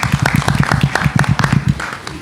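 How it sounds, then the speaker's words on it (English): A conference audience claps for guests at a panel session, producing a short burst of sharp, close claps with a quick, uneven rhythm that fades out after about two seconds. "Round of applause for them, too."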